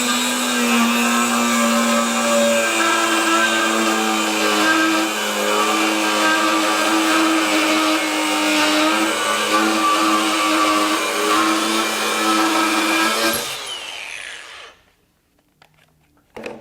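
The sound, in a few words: DeWalt FlexVolt DCG416 angle grinder making freehand cuts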